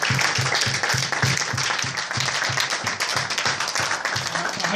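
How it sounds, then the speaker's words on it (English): An audience at an evening talk applauds the speakers with steady, dense clapping that continues evenly for several seconds, loud and close, with no talk over it. "can you please all give everybody a massive round of applause for Dave"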